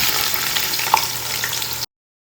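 Sliced onions deep frying in hot oil for chicken biryani, a dense continuous sizzle and bubbling heard close up with a faint stir or scrape midway, cutting off abruptly.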